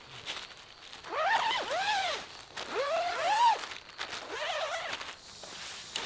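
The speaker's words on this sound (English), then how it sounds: "on the left-hand side, you have a zipper." Three long pulls of the zipper on a Helikon-Tex Swagman Roll sleeping bag in a row, each a rising and falling zipping rasp, close and clear against a quiet background.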